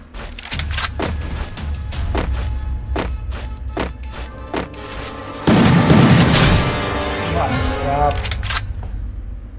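A grenade blast in the mobile shooter Garena Free Fire: a loud burst of booming explosion noise erupts midway, preceded by rapid sharp game clicks and shots, with someone talking excitedly throughout.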